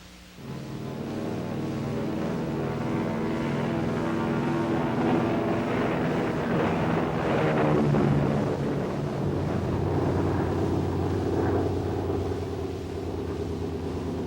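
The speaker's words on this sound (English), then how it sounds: "High-speed jets carrying cameramen and observers take off to join the B-50 and X-2." A loud, steady jet engine roar builds and swells as high-speed jets take off, a powerful aircraft rumble with whooshing wind noise that holds strong throughout.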